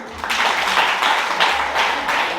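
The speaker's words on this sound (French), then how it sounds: "Applaudissez les premières années" Audience applause for first-year students at an INSA Toulouse stand-up comedy show, a dense, steady clatter of many hands clapping close up, with swelling bursts and no talk over it.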